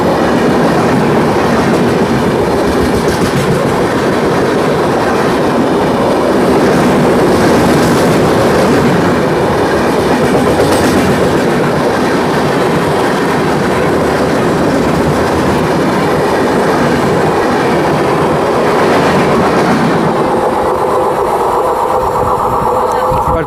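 Ahmedabad–Puri Superfast Express hauled by a WAP 7 electric locomotive rushes past at high speed, loud continuous rumble and clatter of coaches for most of the pass, then the roar drops away abruptly near the end.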